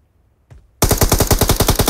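Automatic gunfire in the mobile battle royale game BGMI, a loud rapid burst of evenly spaced shots bursting in right after a brief click, continuing steadily to the end.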